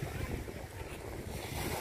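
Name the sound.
sea waves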